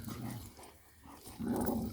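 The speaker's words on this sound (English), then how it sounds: "I'm out here with the dogs." Cane Corso dogs growl and whine at fairly close range outdoors, with a short lull before the growling rises again.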